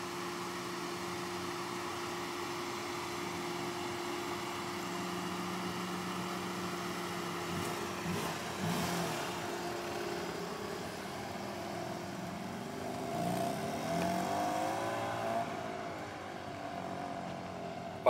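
A brand-new car runs on its first drive, its engine giving a low, steady hum with quiet background sounds. The tone shifts and swells briefly near the end.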